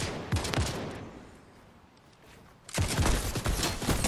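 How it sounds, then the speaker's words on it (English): Shooter video game gunfire comes in loud rapid bursts, with a rattling volley at the start, a quieter gap, and then a sustained barrage of close automatic shots. No one speaks. "Where's this guy shooting from?"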